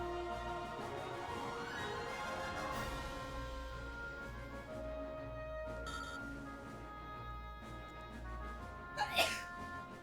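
A single sneeze near the end, short and fairly close, sits over quiet background game audio from Super Robot Wars V during a stream.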